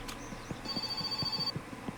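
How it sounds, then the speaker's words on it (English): A telephone in the game My Summer Car rings with a thin, steady electronic tone lasting about a second, heard under rhythmic clunking and soft background noise. "After we answer the phone."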